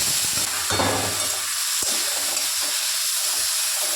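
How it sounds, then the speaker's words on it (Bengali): Washed dried shrimp frying in hot mustard oil, a loud continuous close sizzle with stirring scrapes and a sharp clink partway through. "এটা আমি একটু হালকা ভেজে নেব"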